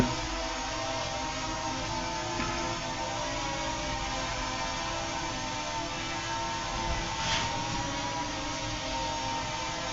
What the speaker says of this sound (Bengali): যেহেতু আমি ইনডোরে উড়াচ্ছি, রুমের মধ্যে আপনাদেরকে দেখাচ্ছি ভিডিওটা